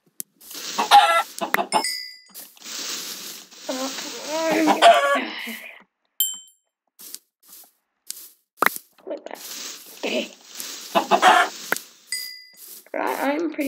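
Minecraft chickens cluck in scattered short bursts over several seconds, mixed with brief pings and chimes from the game, close and fairly loud with quiet gaps between.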